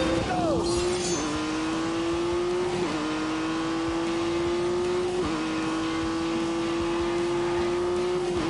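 A Honda NSX engine drones at high revs in The Grand Tour racing game, a loud sustained whine that dips briefly at each gear shift and climbs again, steady and close throughout.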